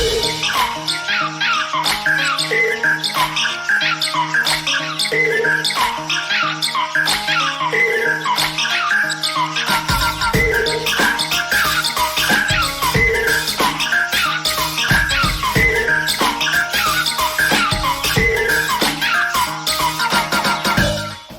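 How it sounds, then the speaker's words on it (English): Upbeat funk DJ mix from a 2D platformer video game soundtrack, steady rhythmic beat and bass with bright chirping bird-like synth notes repeating over it, loud and continuous throughout with a fuller low end entering partway. "I'll just leave you with some bird chirping DJ mix funk"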